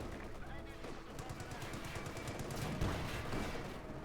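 Tank machine gun fire in the Company of Heroes 2 strategy game, a sustained rapid rattle of bursts with distant gunfire layered beneath, continuous for several seconds under game ambience.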